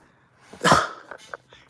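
One sharp, close sneeze bursts out of near silence, followed by a few soft breathy sounds and small mouth noises as it settles.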